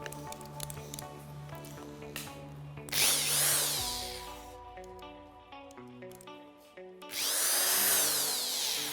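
OMP2 electric drill, faulty from a broken cable to its switch, whirs up loudly in two short bursts, each winding up and then dying away, with quieter rattling handling noise between them.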